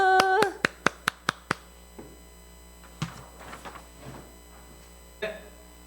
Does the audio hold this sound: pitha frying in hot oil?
no